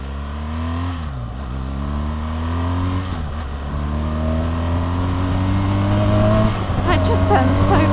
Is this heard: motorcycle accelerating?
yes